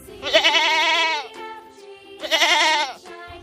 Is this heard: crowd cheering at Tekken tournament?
no